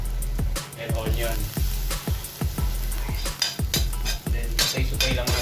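Garlic and onion sauté in cooking oil in a pan, a constant close sizzle punctuated by frequent sharp metallic scrapes and clinks of a utensil against the pan.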